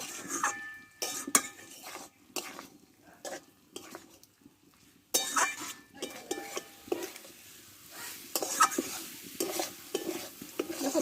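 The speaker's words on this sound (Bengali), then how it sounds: "একসঙ্গে ভালোভাবে একটু কষে নেব" Potatoes and pointed gourd are sautéed with spices in a pan. A spatula stirs and scrapes in uneven bursts over a soft sizzle, close by and fairly quiet, with brief pauses between strokes.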